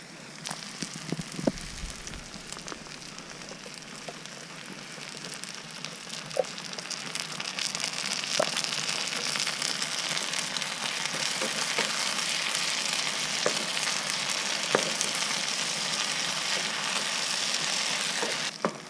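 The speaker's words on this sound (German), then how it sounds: "das Wasser blubbert auch schon langsam, also geht echt halt schnell auf dem Gas" Water coming to a boil in a pot on a gas camping stove outdoors on a still night, with a steady hiss and soft bubbling, crackling texture running continuously and growing slightly louder, and no talking.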